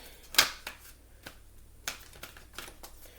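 Oracle cards being shuffled by hand, a sharp riffle burst near the start followed by several softer scattered card flicks and slides, close and quiet with no talking.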